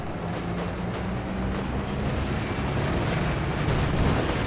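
Long-range cannon fire from a Command Panther tank in a real-time strategy battle game, heard as a steady rumbling barrage of distant shot thumps without any talk.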